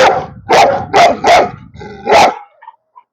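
An eight-month-old female Cane Corso gives four loud, deep barks in quick succession, pauses, then lets out one more bark, followed by a couple of faint short yips.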